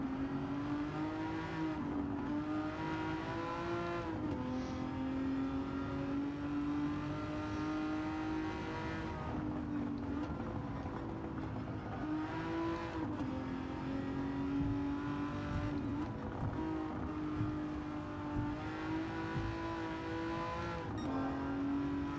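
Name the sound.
Aston Martin DB11 engine anti-lag burbles, Gran Turismo 7 video game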